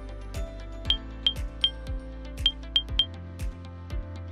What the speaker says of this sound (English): I have this beep sound effect here